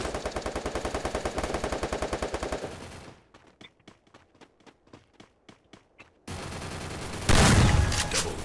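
Rapid automatic gunfire from a shooting video game, a long burst, then about a dozen spaced single shots, then another burst and a loud blast near the end, all close and loud.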